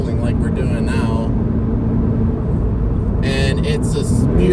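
A 2022 Toyota GR86, a light coupe of about 2,800 pounds, is driven hard through corners, its engine a steady loud drone inside the cabin while someone talks over it.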